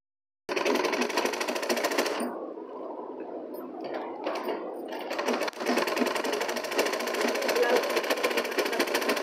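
A sewing machine runs close and loud while stitching a designer blouse. A steady whirring rattle starts, pauses briefly and stutters, then carries on in a long continuous run.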